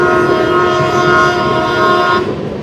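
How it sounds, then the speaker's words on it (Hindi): Parcel train on the Nagpur line, rolling past as a loud, steady rumble with a sustained tonal whine, close by, then cutting off abruptly near the end. "ये पार्सल वैन जा रही है नागपुर वाली लाइन पे, पार्सल ट्रेन।"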